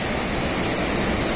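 Rushing water of the Rispana river pours over Shikhar Fall near Dehradun, a steady, loud, close wash of white noise that fills the whole moment alone.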